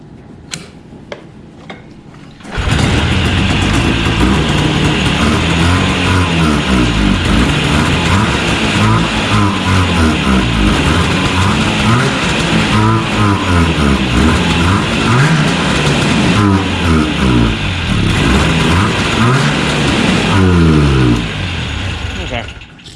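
A Yamaha Enticer snowmobile engine on a stand starts after a few faint clicks and runs loudly and roughly, revving up and down in uneven surges before cutting off near the end.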